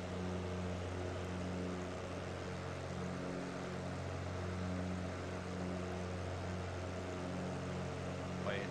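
Cessna 208 turboprop engine held at full throttle on approach into Fairbanks, a steady loud cabin drone with a constant propeller hum throughout, while a pilot's voice talks over it.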